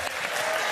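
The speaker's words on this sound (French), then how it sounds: "Et applaudissements pour Nadia du Nord." Studio audience of a French television game show breaking into applause, a brief, steady burst of many hands clapping.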